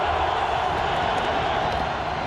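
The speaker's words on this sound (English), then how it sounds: "The crowd noise, it bothers him." A steady wash of stadium crowd noise fills an NFL football game, a dense, unbroken roar of many voices with faint cheering and no single voice standing out.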